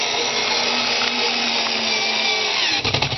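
A power driver sinks a screw into solid wooden trim with a steady, loud motor whine that holds without a break, then ends in a few quick clicks and knocks.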